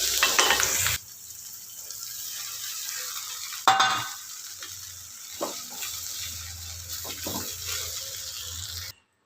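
Onions sautéing in a pan with salt, a quiet steady sizzle with a few scraping stirs, after a brief loud burst of noise at the start; no talking.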